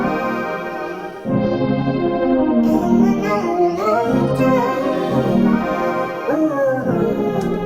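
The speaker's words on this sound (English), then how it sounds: "I added this lead sound in, which again I just used on the Sky keys, and the sound is hyper horn, simple sound" A simple synth lead patch called hyper horn plays a single-note melody over sustained chords, the notes gliding up and down in a bright, buzzy horn-like tone, alone without talk.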